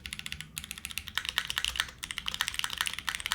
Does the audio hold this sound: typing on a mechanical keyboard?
yes